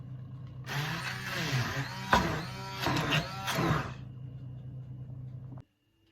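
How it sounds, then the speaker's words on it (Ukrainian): A blender whipping cream with cream cheese and sugar for a honey cake: a loud, steady mechanical whir with harsh, rising bursts of grinding noise for several seconds, then an abrupt stop into silence. "І все це гарно збиваємо блендером."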